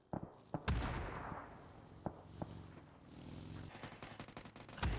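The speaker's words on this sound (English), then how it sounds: "Shots being fired" Distant gunfire in the battle royale game PUBG during a competitive esports match, scattered sharp shots and short rattling bursts, fairly faint against a low background rumble.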